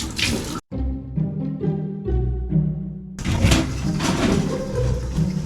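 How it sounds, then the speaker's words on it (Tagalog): Tap water runs and splashes over peeled sugarcane stalks in a sink, with hollow thunks and knocks as the stalks are handled, a short gap, then a louder fuller gush of running water. "Pagkatapos itong balatan ay hugasan na natin to."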